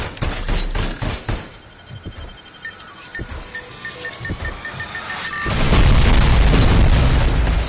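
Missiles blast in the shooter game Robocop Rogue City, heavy booms and bursts hitting close together, ending in a sustained loud rumble.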